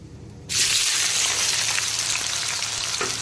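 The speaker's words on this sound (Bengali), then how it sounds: "ফোড়নটাকে প্রথমে একটুখানি ভাজা ভাজা করে নিতে হবে।" Whole garam masala, bay leaf, cumin and a large cardamom hit hot oil in a pan, erupting into a sudden loud sizzle after a short quiet moment, then holding a strong, even crackle.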